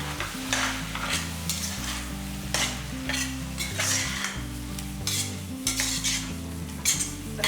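Prawns, brinjal and green peanuts for a gravy are stirred and fried in a pan, with steady sizzling and repeated scraping and clinking of a spoon against the metal, close and lively with no talking.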